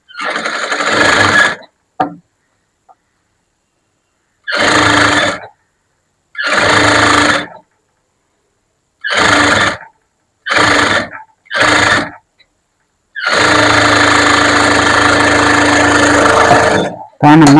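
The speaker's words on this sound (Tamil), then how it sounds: "உலர் தையல் போட்டுடலாம்." A sewing machine stitches a blouse in repeated bursts of running, several short runs and a longer final stretch separated by silences, loud and close with no talking.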